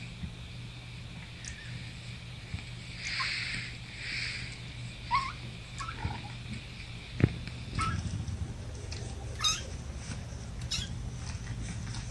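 A mother cat with her nursing kittens makes a steady low purr under a few faint high meows and squeaks, plus occasional soft rustling and bumps, close and quiet throughout.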